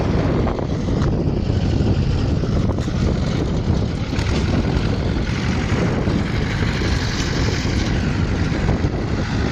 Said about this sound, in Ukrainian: Трактори по селі гудуть